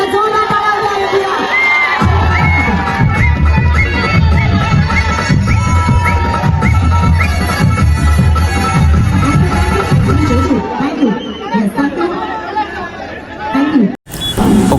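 A crowd at a Dahi Handi festival cheers, claps and shouts without pause. Festival music with a heavy beat runs underneath, the noise drops back somewhat near the end, and there is a brief break just before the clip finishes.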